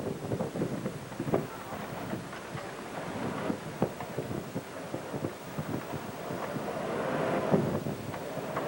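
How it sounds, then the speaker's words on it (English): Wind blows outdoors as a steady, rough rushing with gusty thumps against the microphone, moderately loud and continuous, with no voices heard. "The wind. Isn't that beautiful?"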